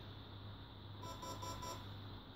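A single faint electronic beep from a Chimera MK II controller being programmed, a steady tone lasting under a second, over a quiet background hum.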